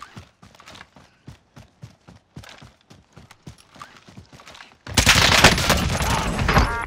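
In Call of Duty Warzone, quick rhythmic footstep-like thuds give way to a sudden, loud burst of sustained rapid gunfire that continues to the end.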